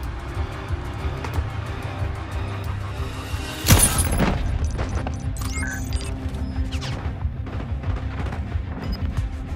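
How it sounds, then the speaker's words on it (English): A grenade goes off in the shooter game Call of Duty MW3, a single sharp blast near the middle standing out over a low rumbling battlefield background with scattered smaller noises. "Throwing grenade!"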